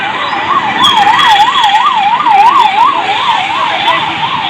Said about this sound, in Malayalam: ആംബുലൻസ് പോണതും ആംബുലൻസ് വരുന്നതും